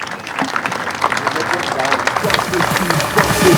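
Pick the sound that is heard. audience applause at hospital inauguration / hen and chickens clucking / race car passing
audience applause at hospital inauguration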